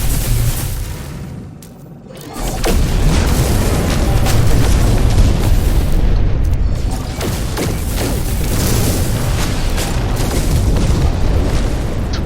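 Rapid-fire shooting from a multi-tool in the video game No Man's Sky, a dense, continuous barrage of loud booming shots and bursts that carries on for several seconds after a brief lull.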